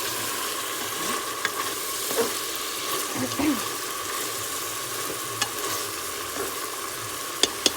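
Spaghetti squash being stirred in a pot with a constant frying sizzle underneath and occasional scrapes and clicks of the utensil against the bottom.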